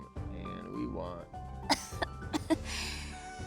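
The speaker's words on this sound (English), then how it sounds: "The Amagi cough" The Amagi character from the Azur Lane video game gives a few short, sharp coughs and throat-clearing sounds, close and fairly loud, after a brief stretch of voiced murmuring.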